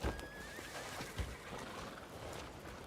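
A horse in the open-world game Crimson Desert whinnies with a high, wavering neigh while a couple of soft hoof thuds land beneath it, set against a steady ambient wash.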